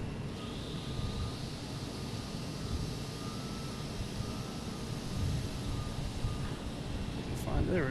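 JetBlue Airbus A220 jet arriving at Boston Logan from Richmond, heard as a continuous low, broad roar from some distance that swells slightly toward the end.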